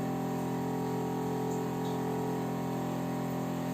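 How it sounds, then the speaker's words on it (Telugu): Drain water from a water-testing setup pours steadily into a container, a continuous loud rush with an underlying motor-like hum, unbroken throughout and with no voices. "ఇందులో నేను డ్రైన్ వాటర్ పడతాను."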